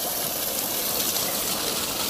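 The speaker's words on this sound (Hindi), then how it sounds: "ए पानी आ रहा है" Water gushes steadily from a solar-powered tubewell motor pump at a borehole. It makes a loud, continuous rushing roar with no pauses and no voices.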